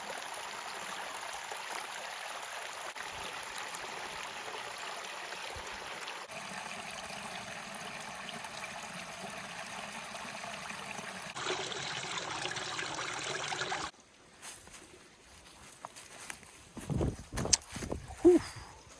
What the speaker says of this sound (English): Nice little creek, cute waterfall, and it flows all the way into the lake right down there.